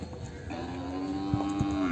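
A single long, low moo from a nearby pregnant buffalo rises over a faint background murmur at the Erragadda buffalo market, Hyderabad.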